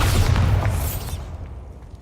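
A Bombarda spell explosion in Hogwarts Legacy, a deep, loud boom with a rumbling body that decays over about two seconds.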